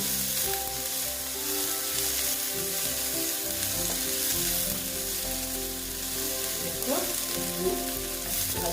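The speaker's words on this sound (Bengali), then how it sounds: "একসঙ্গে পেঁয়াজ রসুন আদা কাঁচা লঙ্কা একসঙ্গে আমি ভেজে নিচ্ছি" Onion, garlic, ginger and green chilli frying together in a pan for egg chops, a loud steady sizzle close up with occasional stirring scrapes and faint background tones, no speech.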